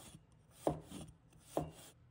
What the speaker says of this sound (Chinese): 一块生姜，把它切成丝